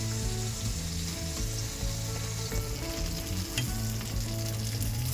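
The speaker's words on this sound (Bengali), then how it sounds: "আর মাছগুলো সব ভাজা হয়ে গেছে আর এগুলো তুলে নিই" Bata fish frying in a pan of hot oil for a spicy Bengali fish curry, a steady dense sizzle with crackling and bubbling throughout, loud and close with no talk.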